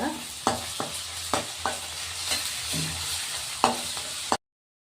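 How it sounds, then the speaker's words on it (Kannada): Ginger garlic paste frying with onions in a pan for an Andhra-style mutton fry, with a continuous close sizzle broken by a series of sharp stirring scrapes before the sound cuts to silence. "ಇದು ಸಹ ಚೆನ್ನಾಗಿ ಫ್ರೈ ಮಾಡ್ಕೊಳ್ಳೋಣ ಒಂದೆರಡು ನಿಮಿಷ"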